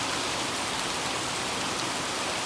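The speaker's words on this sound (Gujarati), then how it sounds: "તો વરસાદ વધી ગયો છે, કેટલો બધો આવે છે" Steady, dense rain pours down continuously, a heavy hiss filling the whole clip with no voices.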